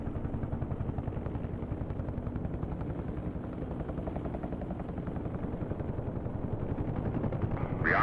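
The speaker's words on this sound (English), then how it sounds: "The chopper you're hearing, I suspect, is Undead" Huey helicopter in the DCS flight simulator game, a steady rotor thump and turbine drone running continuously, fairly loud and alone with no talk, growing slightly louder near the end.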